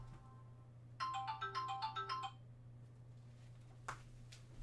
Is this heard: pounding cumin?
no